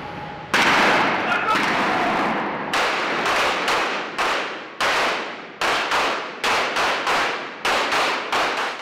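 Gunfire rings out during a simulated close-protection security exercise: a long burst at first, then a string of sharp, loud shots in an uneven rhythm, each echoing briefly, with voices around them.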